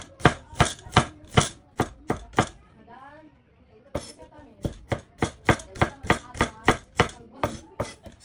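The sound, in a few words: knife slicing food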